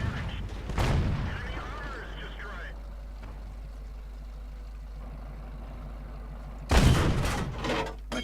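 A tank gun fires in the World of Tanks video game, with a heavy boom near the start and another loud blast near the end over a low engine rumble.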